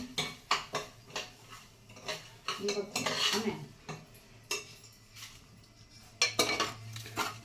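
Puffed rice being stirred in a pressure cooker: repeated scraping and clattering of a metal spoon against the pot in an irregular rhythm, fairly close and moderately loud.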